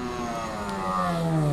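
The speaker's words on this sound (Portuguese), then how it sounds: "ele tá chegando com a moto ali" A Honda CB650 motorcycle arriving, its engine note rising steadily as it draws nearer and grows louder, with a clear harmonic whine and no talking over it.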